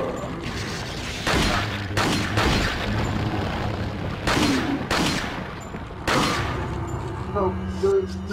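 Machine gun fire in Resident Evil 4, loud bursts of rapid shots and booms repeating every second or so, with someone talking excitedly over the gunfire.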